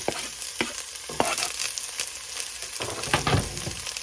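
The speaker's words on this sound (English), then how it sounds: "We're going to go ahead and saute these onions, garlics, and shallots first." Onions, garlic and shallots sauté in hot olive oil, giving a steady crackling sizzle with sharp spatters and stirring scrapes throughout, close and alone without talk.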